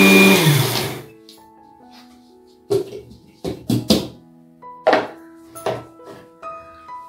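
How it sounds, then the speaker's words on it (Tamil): A mixer grinder whirs loudly for about a second as it powders red flattened rice (poha) in its jar, then stops; a series of separate thuds and bumps follows as the jar is knocked and handled. "இப்போ நம்ம மிக்சியில பவுடர் பண்ணியாச்சு அவல்ல"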